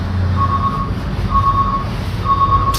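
Reversing alarm on a bus, three evenly spaced electronic beeps over a low rumbling engine idle, clear and fairly close.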